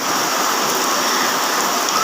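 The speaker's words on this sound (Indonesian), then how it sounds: "Ini hujan ini" Steady rain falls in a dense, even hiss that holds at one level throughout, with no voices or other sounds over it.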